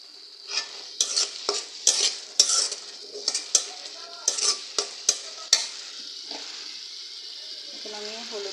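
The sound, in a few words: frying shrimp with onions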